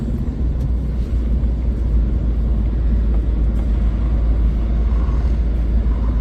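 A car driven by a learner driver gives a steady, loud, low engine and road rumble that continues unbroken throughout, heard from inside the vehicle.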